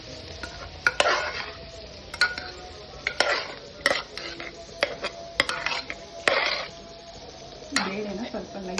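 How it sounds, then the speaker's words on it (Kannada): Lentils being stirred and lightly mashed in a pan with a utensil, giving a run of close scraping and clinking strokes with scattered sharp taps of metal against the pan. "ಬೇಳೆನ ಸ್ವಲ್ಪ ಲೈಟಾಗಿ ಸ್ಮ್ಯಾಶ್ ಮಾಡಿಕೊಂಡು ಮಿಕ್ಸ್ ಮಾಡ್ತೀವಿ"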